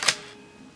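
A single sharp mechanical click of a Canon Sure Shot 35mm film camera shutter firing, close and crisp, followed by quiet.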